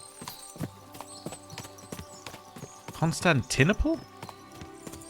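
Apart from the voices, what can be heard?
horses' hooves clip-clopping in video game Kingdom Come: Deliverance II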